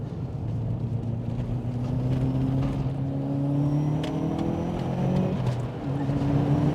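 A Subaru Impreza P1 accelerating hard, engine note rising steadily then dipping and climbing again through quick gear changes, loud and close from inside the car.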